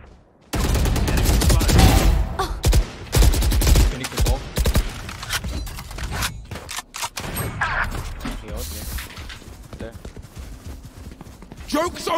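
Rapid gunfire from the video game Valorant crackles in dense bursts and single shots, loud and close, then gives way to sparser shots and game clatter.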